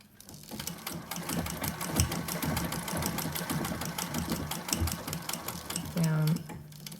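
A sewing machine runs steadily, stitching fabric for a Christmas crown, its rapid even chatter continuing for several seconds before a brief lower hum near the end, with faint talk in the background.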